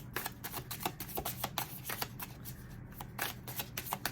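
Tarot cards shuffled by hand in a steady run of crisp riffling slaps and flicks, close and fairly quiet, with no voices.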